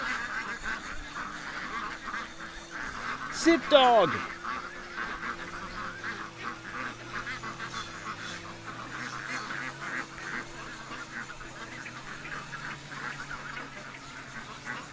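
A goose honks loudly a few times nearby on a farm where ducks are being let out, while someone speaks to his dog.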